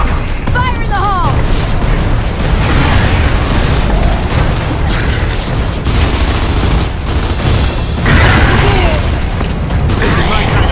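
Grenade blast in the Gears of War: Judgment shooter, buried in a loud, continuous battle mix of booming gunfire and bursts with voices calling out over the fighting.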